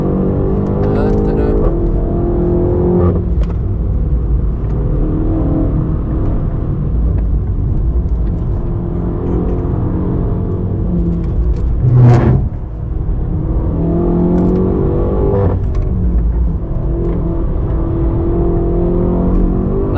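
A BMW M8 Competition tuned past 700 hp laps the Nürburgring, its engine droning steadily at high load with rising and falling revs and a sharp surge midway, loud and constant throughout.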